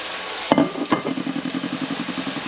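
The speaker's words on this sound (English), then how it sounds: "those have been frying for about 3 to 5 minutes" Ham and mushroom stuffing fries in a pan with a soft, steady sizzle, broken by two sharp knocks of a utensil and then a run of rhythmic stirring scrapes.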